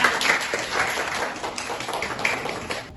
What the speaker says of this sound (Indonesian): Ayo kita tepuk tangan dulu untuk Mutia.